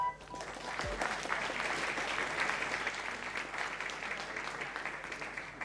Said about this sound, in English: I would like you to welcome, with a big round of applause, Martina Marchio.